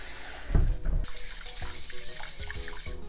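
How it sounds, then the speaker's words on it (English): A cup of rice is rinsed in a bowl under running tap water, with a splashing rush at the start, then softer trickling and sloshing as the grains are stirred, close and without speech. "I have 1 cup of rice, and then we're gonna rinse with water"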